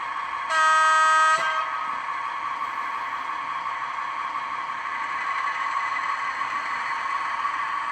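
Digital sound decoder in a PIKO BB 67412 model locomotive sounds a single bright, harmonic horn blast lasting about a second, loud and clear, then gives way to a steady idling engine hum that continues alone.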